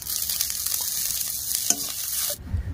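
Neem flowers fry in hot oil in a pan with a loud, close, continuous sizzle and stirring scrapes, and the sizzle cuts off near the end.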